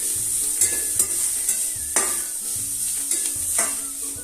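Onion and green chili mixture is stirred and fried in a pan, with a steady sizzle throughout and a handful of sharp scraping strokes of the spoon spaced about half a second apart, close and fairly loud.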